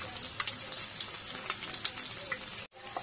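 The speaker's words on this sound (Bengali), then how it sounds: "পনিরগুলো দিয়ে দিয়েছি কড়াইতে। এবার হালকা উল্টে পাল্টে, খুব বেশি কড়া করবো না, হালকা করে ভেজে নেবো।" Paneer pieces fry lightly in oil in a kadai, giving a steady close sizzle with small crackling pops throughout and a brief break near the end.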